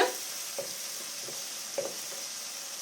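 Tomatoes sauté in a pan for soya curry, a continuous bright sizzle with a couple of soft stirring scrapes, close and steady with no talking.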